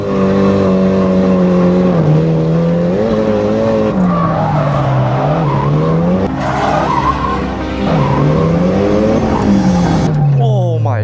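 Nissan 180SX, long abandoned, drifting on a track with almost no rear grip: a loud, close engine drone that swells and dips with the throttle, with tire squeal layered over it, running continuously before cutting off near the end.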